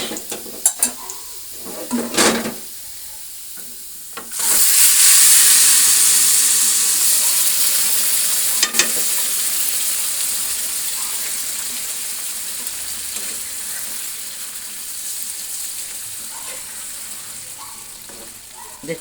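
Winter vegetables fry in a hot pan. A loud sizzling hiss bursts in and slowly fades, with sharp scrapes and clinks of stirring before it and near the end.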